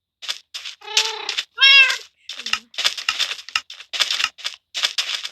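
Two clear meows from a cat in Minecraft rise above bursts of rapid clicking and tapping, like keys or buttons pressed in quick clusters.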